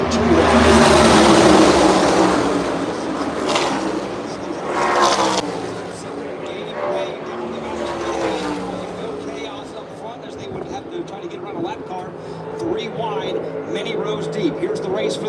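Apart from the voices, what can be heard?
NASCAR race cars racing on track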